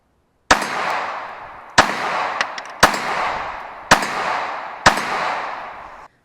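Five sharp pistol shots from a Glock 42 fired at a target, spaced about a second apart, each a loud crack followed by a ringing outdoor echo that trails off.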